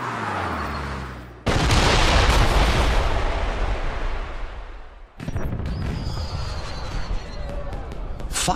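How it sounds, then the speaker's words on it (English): Fireworks explode in the James Bond 007: Blood Stone video game, loud booming bursts and long crackling rumbles in two waves, with game sound filling the gaps. "Did you know there were going to be fireworks?"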